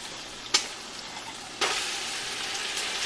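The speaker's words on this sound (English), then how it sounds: "Go ahead and add the onions first, honey." Onions hit hot fat in a pan for clam chowder and sizzle, a sharp hiss when they drop in followed by a louder, steady frying crackle close by.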